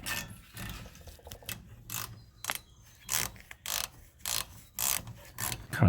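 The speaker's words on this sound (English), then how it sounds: "Kind of pushing out with a flat head while I ratchet out." A hand ratchet backing out brake caliper bolts on a Ford Focus rear brake, sharp rhythmic clicking strokes in short bursts, close and clear, with no talking.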